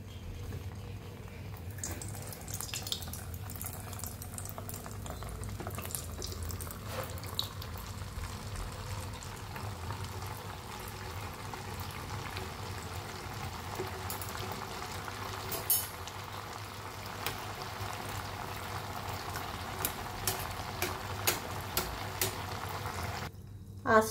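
Gulab jamun dough balls frying in hot oil over a very low flame, a steady soft bubbling hiss that runs throughout, faint and close, with a few small pops and clicks and no voices.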